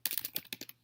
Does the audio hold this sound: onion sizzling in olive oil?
no